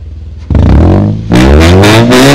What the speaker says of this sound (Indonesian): Knalpotnya keren banget nih, saya tes jajal ya.